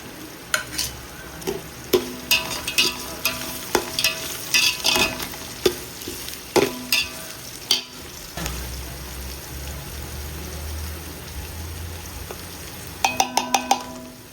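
Onions sautéing in a pan for country chicken biryani, a continuous close sizzle broken by frequent sharp clacks of a spoon or spatula against the pan, with a brief burst of rapid metal taps near the end.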